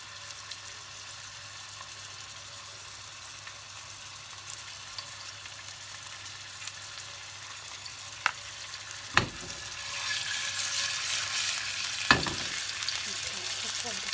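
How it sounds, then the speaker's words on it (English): Seasoned chicken frying in a pan on high heat, giving a soft steady sizzle that grows a little louder toward the end, with a couple of sharp clatters from stirring. "The chicken, I'm now going to fry it on a high heat just until it has browned."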